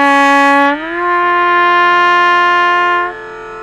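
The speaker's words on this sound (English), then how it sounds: "I blow softer while I'm lifting the valve up, and then as soon as the valve is all the way up, I resume the normal volume of the note." A Firebird trumpet holds a clear, steady note, then slides down in pitch through a half-valve bend while the tone softens. It settles into a lower sustained note at full volume and stops cleanly near the end, played solo.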